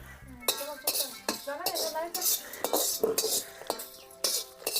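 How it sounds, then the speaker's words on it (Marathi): Whole spices such as green cardamom roast in a kadhai for a Maharashtrian onion-garlic masala, with repeated metal scrapes and clinks of a spatula against the pan in an uneven rhythm, near and loud, while a voice speaks faintly underneath. "तेल न वापरणारे मसाले आता या तेलाच्या कढईमध्ये भाजून घ्यायचे आहेत"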